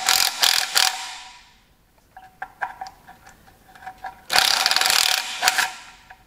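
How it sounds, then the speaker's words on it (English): Small nut gun rattling sump nuts off a Ferguson TEA20 tractor, two loud close bursts of rapid impact clatter with faint mechanical clicks and ticks between them. "we'll just pop the little nut gun on there and we'll rattle that off"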